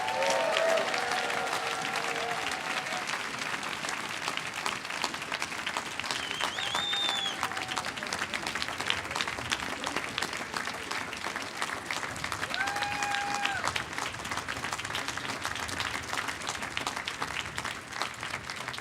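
Sustained crowd applause fills a large hall at the 2019 Colorado gubernatorial inauguration, greeting the new governor Jared Polis; steady dense clapping continues throughout with a few faint cheers and whistles mixed in.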